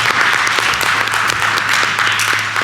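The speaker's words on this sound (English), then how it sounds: "Let's have a round of applause for that." A crowd applauds at a Linden Board of Education meeting, dense and steady clapping that fills the room for a few seconds at close range.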